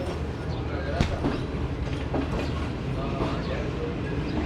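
The Shalimar Express, a Pakistani passenger train running Lahore to Karachi, rolls across points onto the main line, a steady loud rumble of wheels with scattered clicks and clacks over the rails throughout.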